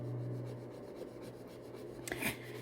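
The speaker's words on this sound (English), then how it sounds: "And you put your flower or leaf there, and you just rub on," A flower or leaf rub-on transfer is rubbed onto a journal page, quiet repeated scraping strokes close up, with a brief louder scratchy burst near the end.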